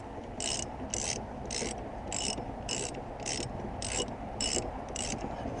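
A half-inch ratchet wrench tightening a fastener on an Acura car engine, giving about nine evenly spaced bursts of rapid clicking, close and clear over a steady background hum.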